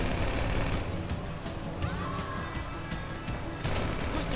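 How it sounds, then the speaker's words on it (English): Gunfire in the video game Grand Theft Auto V during a getaway: bursts of rapid shots crackle over a rumbling car engine, with a brief lull midway before the shooting resumes loud. "Shoot that gun, kid! That's what it's for!"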